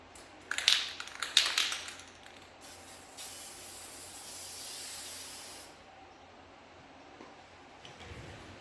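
VHT red paint sprayed from an aerosol can onto the brake calipers of a 2019 Nissan Maxima SL, with a few short hissing bursts followed by a longer steady hiss that fades out.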